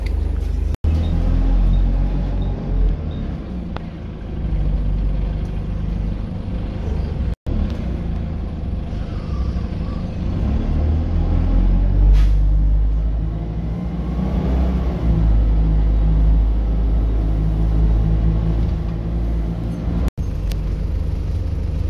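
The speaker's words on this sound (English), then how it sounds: "This discount bus with NK54NUB." A discount bus, registration NK54NUB, from a Birmingham independent operator, heard from inside while driving: a steady loud engine rumble and road noise that swell and ease throughout, with no talking.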